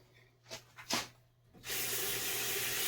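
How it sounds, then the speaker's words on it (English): Purified water pours steadily into a pan on a stovetop while cooking, a continuous loud splashing hiss after a few soft handling clicks. "Then we're gonna add some water."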